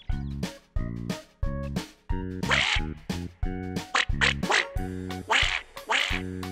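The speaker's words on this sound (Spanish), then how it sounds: "¿Qué animal debería estar en la laguna y hace cuac, cuac, cuac, cuac?" A duck quacks repeatedly in a steady series of loud, nasal calls, close and clear, with no voices.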